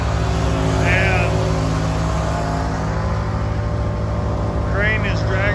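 A diesel engine runs steadily and loud on a trailer with a crane and power supply while brush is dragged toward a chipper, a constant low drone throughout, with faint voices briefly audible over it.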